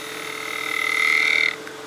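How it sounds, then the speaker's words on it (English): The nose of a woodturning gouge makes a fine cut on a spinning top turning on a lathe, a steady high, whining hum that swells and holds for about a second before cutting off. "getting a super fine cut with the nose of the gouge"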